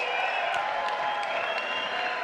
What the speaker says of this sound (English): Let's give both of these fighters a big round of applause.